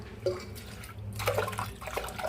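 Water pours and splashes into a metal pressure cooker, a steady gurgling stream lasting a couple of seconds.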